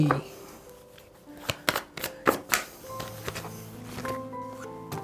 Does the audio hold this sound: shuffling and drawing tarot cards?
yes